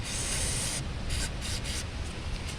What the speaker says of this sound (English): we're gonna spray this with carb cleaner